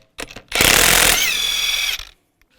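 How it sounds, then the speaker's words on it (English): A power tool, likely an impact wrench, fitted with a 22mm socket spins lug nuts off the wheel of a 2015-2020 Cadillac Escalade, giving one loud sustained whirring burst of about a second and a half after a short rattle, with no talk. "Use a 22mm socket and take the lug nuts off."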